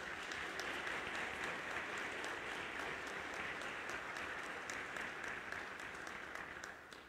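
Audience applause at a diocesan catechesis gathering of the Diocese of Araçatuba greets a pastoral region: steady, dense clapping from a large crowd, fairly faint and distant, holding evenly for several seconds before easing slightly.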